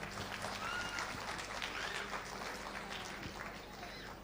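An audience claps steadily to welcome ex-pastor Vijay Kumar to the stage at an evening gathering. The dense applause continues for several seconds under faint voices.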